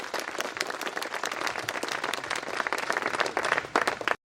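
Audience clapping at an Independence Day show at the Quaid Residency in Ziarat, a dense, loud, steady burst of applause lasting several seconds before cutting off abruptly.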